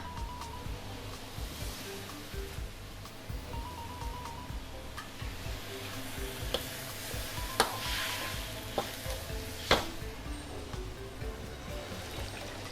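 Spring rolls frying in hot oil, a steady soft sizzle and bubbling with occasional sharp pops and crackles, fairly quiet and close, with faint background noise.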